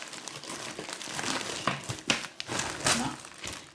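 Plastic packaging of a diamond painting kit crinkles and rustles in irregular bursts as it is unwrapped up close, with faint voice in the background.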